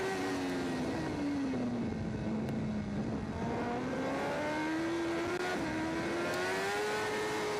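A racing motorcycle laps the Macau Grand Prix street circuit during qualifying, its engine a sustained high whine that rises and dips in pitch as it accelerates and shifts, heard alone at moderate distance.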